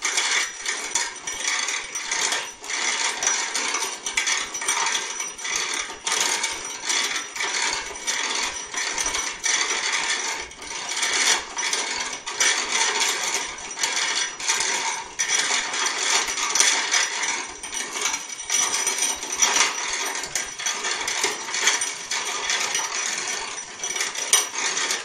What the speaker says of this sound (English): so now we're going to take the grinder